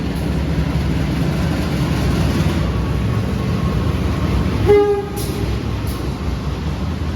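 At Surabaya Pasar Turi station, a train rumbles steadily close by, with a brief horn blast near the end of the passage, ringing out over the continuous rolling noise.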